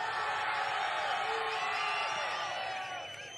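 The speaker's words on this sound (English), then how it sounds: "You can hear the crowd really are up for this" A crowd at a 2023 Sand Series beach volleyball semi-final cheers and whoops in a dense, continuous roar that fades slightly at the end, with a voice carrying over it.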